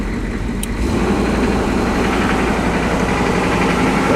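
A car engine idles with its speed raised to about 1400 RPM during work on a knocking A/C compressor, giving a loud, steady, even hum close by with no talk over it.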